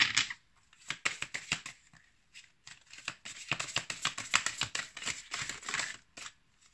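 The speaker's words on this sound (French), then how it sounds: "Allez, on va battre encore 2 ou 3 fois les cartes." Tarot cards shuffled by hand in repeated riffling bursts with short pauses between them, crisp and close, with no talking.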